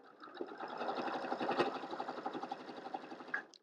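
A sewing machine stitching a quilt block runs in one short, steady burst, its needle rattling in a fast, even rhythm close by and fairly quiet.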